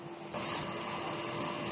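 A DTF printer hums steadily with a constant mechanical whir and a faint tonal drone, shifting slightly in texture about a third of the way in and then running evenly, close and alone.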